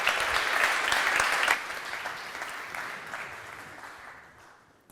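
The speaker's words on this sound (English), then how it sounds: "A round of applause for Juho Kostiainen." Applause from an audience at an economic conference honoring Juho Kostiainen, a warm burst that peaks at first and then fades steadily over a few seconds.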